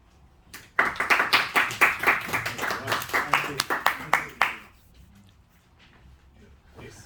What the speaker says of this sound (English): let's just give that final round of applause